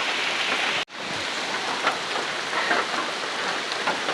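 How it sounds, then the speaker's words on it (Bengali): Heavy rain falls steadily and loudly on surfaces nearby, with a brief dropout early on before the dense patter resumes. "মোটামুটি অনেক বৃষ্টি হয়েছে"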